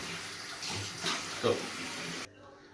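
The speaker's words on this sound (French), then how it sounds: "Une fois les abricots dénoyautés, on va les laver." Pitted apricots rinsed under a running tap, a steady rushing stream of water with small splashing swells, moderately faint, ending abruptly.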